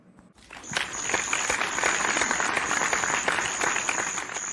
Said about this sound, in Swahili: naombeni tupigie vigeregere na makofi kwa ajili ya mshiriki wetu